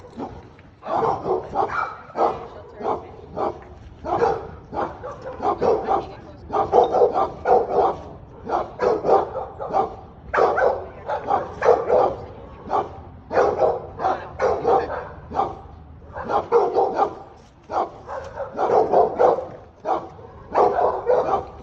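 A pet dog barks repeatedly in a steady rhythm of bow-wows and yips, fairly near and loud, continuing throughout with little pause.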